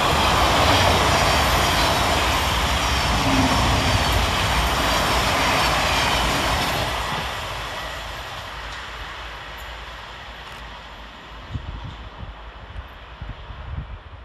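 A Govia Thameslink Class 700 train passes at speed on the fast line at Salfords station, a loud rushing roar of wheels and wind that fades after about seven seconds into quieter rail clatter.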